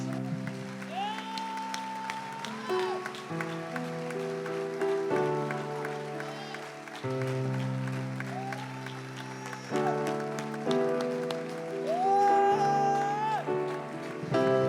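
A church congregation applauds through a long stretch while a tonal melody with gliding notes plays over it. The clapping is steady and spread out.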